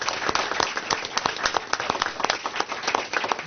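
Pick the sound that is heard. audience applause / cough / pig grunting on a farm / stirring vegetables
audience applause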